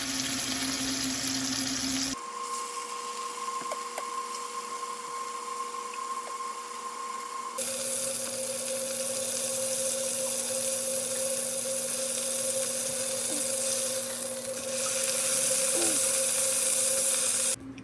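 A beef Wellington fillet sears in a skillet over medium-high heat, giving a steady, close sizzle and hiss that swells partway through, with a faint constant hum underneath.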